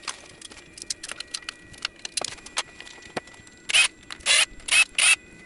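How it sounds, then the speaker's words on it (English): A hand ratchet loosening rusty 8mm bolts on a Mazdaspeed 3, with quick light clicks and small metallic taps followed by several louder, longer bursts of rapid ratcheting, close up. "They're pretty rusty, so I'm gonna be careful and use a ratchet."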